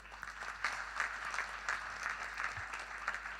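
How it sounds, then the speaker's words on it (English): An audience at a Rotary club installation ceremony claps steadily, a fairly quiet, even patter of many hands heard from across the hall. "This report actually needs a huge round of applause."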